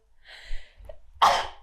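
A single sharp sneeze bursts out close by after a brief inhaled breath, loud and abrupt, then fades quickly.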